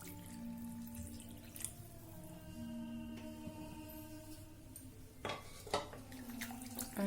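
Water is poured into a pan of potato curry for aloo dum, with a faint trickle that grows into louder splashing bursts toward the end over a quiet kitchen background. No one speaks.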